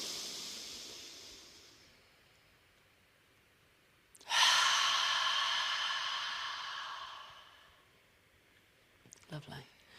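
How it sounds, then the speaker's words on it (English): Deep yogic breaths during a tantric shamanic breathwork session: a long, soft exhale fades out, then after a pause a sudden loud, airy inhale swells and slowly tapers, followed by faint rustling. "Deep breath in."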